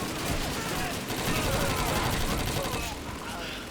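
Gunfire in the Call of Duty 2 video game, a dense, loud and continuous barrage of shots and blasts filling the whole stretch with no pause.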